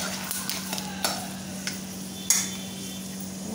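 Mustard seeds with chana dal and urad dal crackle and sizzle in hot oil for rava upma, a steady frying hiss with occasional sharp pops and a faint constant hum underneath.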